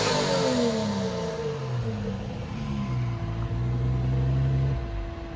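A 2JZ-swapped Dodge Hellcat roars through a burnout, the engine revving loud and continuous with its pitch rising and falling as the wheels spin.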